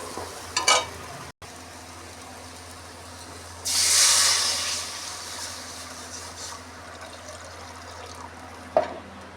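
Potatoes frying in a pan give a low, steady sizzle with a few stirring clatters and a louder hissing surge midway, with no talk.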